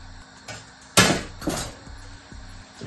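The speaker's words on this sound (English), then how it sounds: "And give it a stir." A spoon scrapes and knocks against a pot of curry chickpeas cooked Jamaican style with green pepper, thyme and vegetable stock, giving a few distinct clunks and a sharp clank near the start, alone and close.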